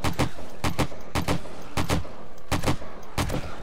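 An AK rifle fires in rapid bursts in the survival game 7 Days to Die during a horde night, close and loud, with sharp shots in quick clusters and brief pauses between them.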